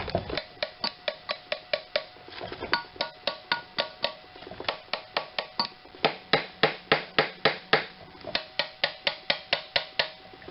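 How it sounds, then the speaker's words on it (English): A hammer strikes engine lifters from a Chevy being pried apart, giving a long series of sharp metallic taps at a fairly steady quick rhythm, close and distinct with no talk. "after I whacked one a little bit harder, they came apart"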